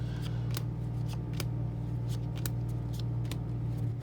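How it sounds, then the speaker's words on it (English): A Final Fantasy trading card booster pack is opened with its pull tab, giving several crisp, short crinkles and tearing snaps over a steady low hum, with no speech. "So these packs do open very nicely."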